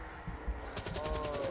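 Rapid gunfire from a Black Ops 3 zombies match, a steady burst of shots that grows denser and louder partway through, with game sounds underneath.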